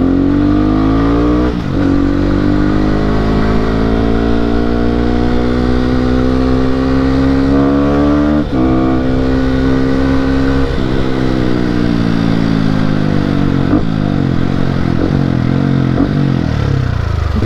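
Modified motorcycle engine revving hard and loud and close, with rising and falling harmonic sweeps as the throttle is blipped repeatedly over a steady idle, no talking.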